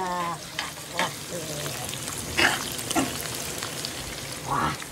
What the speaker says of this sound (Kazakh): мен уже печень жарықта бастағанам